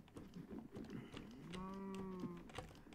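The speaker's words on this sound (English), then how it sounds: "I shot the stupid cow" A cow moos once in a video game, a clear drawn-out low call lasting over a second, heard alone against faint game background noise.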